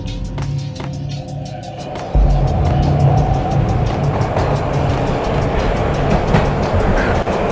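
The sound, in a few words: train ride in video game Max Payne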